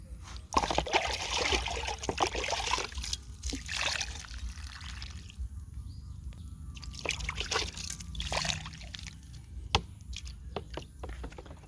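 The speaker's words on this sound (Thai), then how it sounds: "อ่าหลังจากนั้นเราก็ราดรถได้เลยค่ะ" Liquid fertilizer is poured onto the soil around a potted chili plant, a steady trickling and splashing that runs continuously over a noisy outdoor background.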